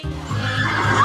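A horse neighs in a single loud, close whinny lasting about a second, with no voices.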